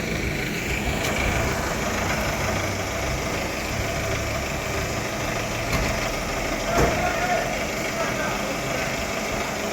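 A truck creeps slowly forward while a trailer is uncoupled, its engine giving a steady, close, low rumble with a few faint clanks, continuous for the whole stretch.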